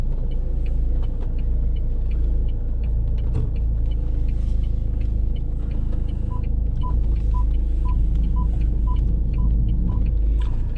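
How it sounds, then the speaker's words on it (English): Mahindra XUV500 automatic SUV, used, idling and creeping slowly into a tight parking spot, a steady low engine rumble alongside the regular beeping of a parking sensor. "So let's quickly park the car back inside"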